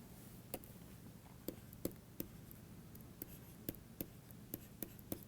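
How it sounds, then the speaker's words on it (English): A pen writing out a math equation, making faint scratchy strokes and soft regular taps in a quiet room, with no talking. "let me write that again"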